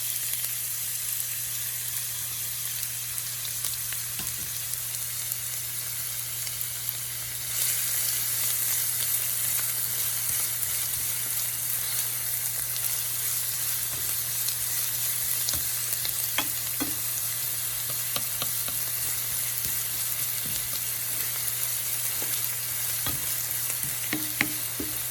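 Chopped onions fry in hot clarified butter in a steady, dense sizzle that keeps going without a break. A few faint clicks of stirring come through, and the frying gets a little louder partway through.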